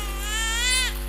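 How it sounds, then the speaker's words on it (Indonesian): A baby near a riverbank gives a single sustained, rising-and-falling wail about a second long, loud and close over a steady low background hum. "Iya, seperti ada tangisan bayi."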